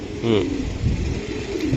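Racer pigeon giving a low, soft coo close by, a short throaty call heard twice against quiet background noise.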